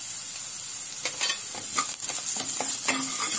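Onion and chili fry in a pan with salt, turmeric and coriander powder. Steady hissing runs throughout while a spoon stirs and scrapes in short, irregular strokes close by.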